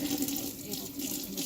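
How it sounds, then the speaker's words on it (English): Cold water pours from a tap into a small sink, a steady splashing stream at close range with no pause and no talking. "I'm just filling this with cold water"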